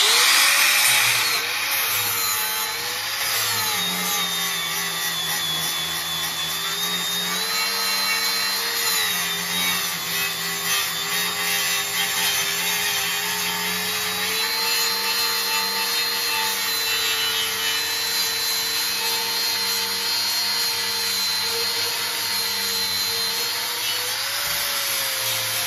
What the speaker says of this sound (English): we're going to grind a little piece of this down